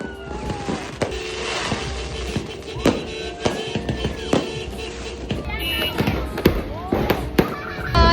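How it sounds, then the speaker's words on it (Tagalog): Repeated sharp firecracker bangs popping at irregular intervals at midnight on New Year's, some near and loud, others farther off, with faint voices and whistles in between. "And 12 a.m. sindihan ng mga paputok."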